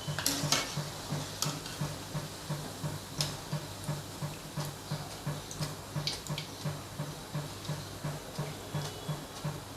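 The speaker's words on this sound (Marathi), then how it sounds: "आता ही भजी आपण काढून घेऊया भजी काढताना हा ताणीचाच वापर करायचा जेणेकरून हे तेल असतं ते सर्व निथळून जातं" Onion bhaji sizzle and crackle faintly in hot oil while a regular ticking rhythm runs beneath, with a few sharp clinks as the fritters are lifted out with a slotted spoon to drain.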